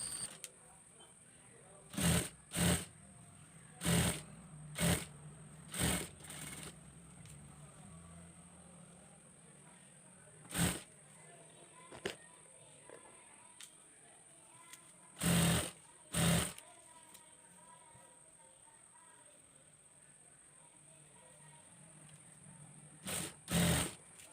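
A sewing machine stitches fabric for a small child's abaya in short, loud bursts of rapid whirring separated by quieter gaps with faint background noise.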